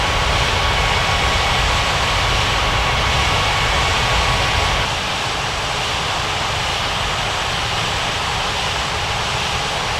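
A Lufthansa airliner taxiing in an air traffic control game at White Center Airport gives off a steady broadband jet engine rumble and whine, loud and continuous, easing slightly partway through, with no talk.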